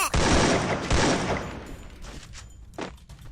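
Gunfire in the mobile battle-royale game Free Fire: two loud broadband bursts near the start, then weaker scattered shots trailing off, with no talk.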